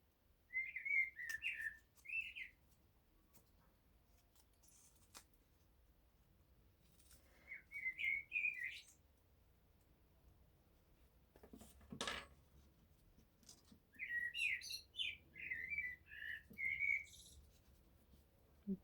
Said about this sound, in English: blackbirds singing outside. It's one of my favourite sounds in the world.